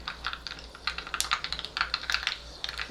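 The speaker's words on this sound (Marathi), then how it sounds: "मोरी घातली आहे मोरी छान तडतडली" Mustard seeds spluttering in hot oil for a tempering, a rapid, irregular run of sharp little pops and crackles, close and continuous, with no talking.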